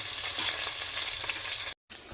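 Chopped onions sizzle and fry in hot oil, a loud, continuous crackling hiss with faint stirring, broken by a short gap.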